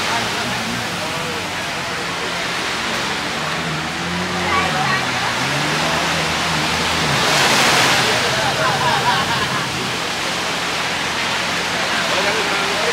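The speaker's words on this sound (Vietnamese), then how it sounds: "ở đây nước sóng được luôn nè, sóng quá trời mạnh luôn" Strong ocean surf at a beach in Nha Trang, a steady loud wash of breaking waves that swells briefly near the middle, with people talking over it.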